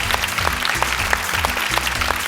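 A studio audience on a music reality show claps for the performers, steady dense applause with a few sharper slaps standing out, close and sustained throughout.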